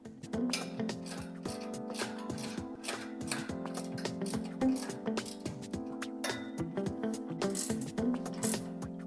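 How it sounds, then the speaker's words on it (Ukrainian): Ratchet wrench tightening bolts on a Fusion Metal metal bed frame, rapid repeated clicking pawl strokes in quick bursts with occasional metallic clinks, close and fairly quiet, no talking. "Тепер беремо ключ на 13, бажано з трещіткою, щоб було легше, і поступово затягуємо кожний болт"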